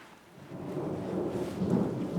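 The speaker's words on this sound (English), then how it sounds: "It's raining like crazy here. It's like a little storm." Heavy rain in a thunderstorm, a rolling rumble of thunder building under dense, steady rainfall, loud and close, with no voices.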